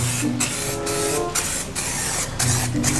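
A spray foam can hisses in several short bursts separated by brief pauses, with a mechanical whirring hum running underneath.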